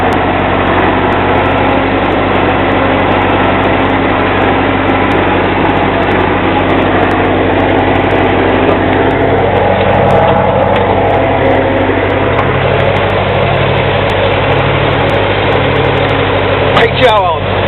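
Massey Ferguson tractor running with a 703 hay baler, a steady loud mid-pitched engine throb with a rhythmic low pulse, continuous throughout, with a voice briefly audible.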